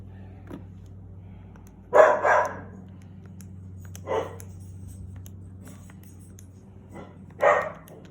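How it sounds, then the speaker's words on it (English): A pet dog barks indoors in a few separate outbursts, a double bark then single ones, moderately close over a steady low hum. "excuse my dog"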